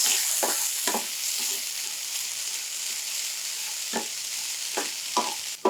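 A steady sizzle of food frying in a pan as a kozhukattai mixture with salt and turmeric is stirred, with a few short scraping stirs of a utensil at irregular moments, close by.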